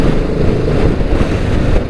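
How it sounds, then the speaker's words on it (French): BSA 650 Gold Star single-cylinder motorcycle engine accelerating with a deep, throbbing roar, loud and steady throughout a short burst, heard close with wind-like rumble. "j'adore ce ronflement à l'accélération"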